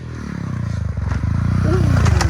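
A pit bike motorcycle comes down from a jump trick, its engine droning and rising in pitch, loud and close, with scraping and clatter as it lands.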